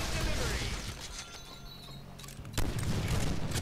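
Rapid gunfire in the Deadpool video game, a dense continuous barrage of loud bursts that eases briefly, then surges back even harder.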